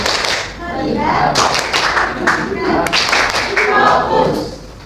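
A classroom of students claps together in a short rhythmic 'tepuk bagus' clapping chant, close and lively, with young voices chanting along.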